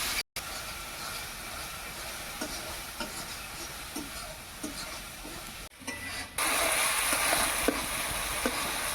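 Spice paste mixed with meat masala fries in oil with a close, continuous sizzle, punctuated by rhythmic stirring scrapes roughly every half second; after a brief pause the hiss grows louder and brighter.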